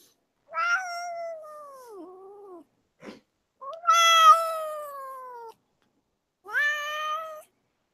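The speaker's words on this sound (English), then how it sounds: "I hear a cat. Yep. Cat came over asking for attention." A house cat meows for attention in four separate drawn-out cries with short pauses between, close and clear in an otherwise quiet room; no one talks over them.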